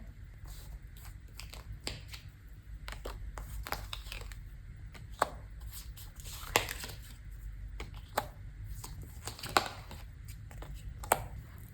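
Tarot cards shuffled for a reading, giving crisp papery riffles, snaps and light taps in irregular bursts, close up with a soft steady background and no talking.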